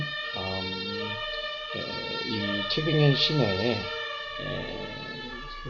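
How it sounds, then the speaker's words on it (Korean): Outside in the city, an ambulance siren holds a steady, sustained tone in the background while a person talks close up over it. "뭐 앰뷸런스 소리인지 바깥에서 심하게 들리네요."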